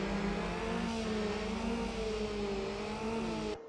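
A car engine held at high revs in Need for Speed Underground, a steady, loud over-revving drone with wavering pitch that cuts off abruptly at the end.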